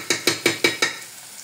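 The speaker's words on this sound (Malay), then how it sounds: "Kita gaul dulu nasi." Five quick, evenly spaced scrapes of a utensil stirring rice in a hot pan, each with a faint sizzle, fading off at the end.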